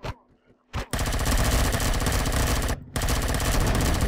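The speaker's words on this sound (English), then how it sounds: "We're getting shot at now." Rapid automatic gunfire in the video game Empyrion Galactic Survival, a dense, loud burst that starts after a few short shots, pauses briefly, then resumes.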